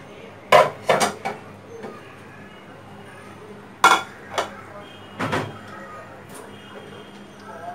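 Pots and utensils clatter while lau ilish, a Bengali hilsa fish curry with bottle gourd, is served, with sharp metallic clinks and knocks in small clusters scattered through a quiet kitchen.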